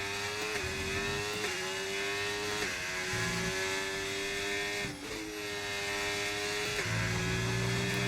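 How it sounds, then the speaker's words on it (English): A Formula 1 style GP2 engine in a Hungary racing game revs high and steady, its pitch climbing through gears with short dips at each upshift, loud and continuous with no talking. "we will hear plenty of GP2 engine"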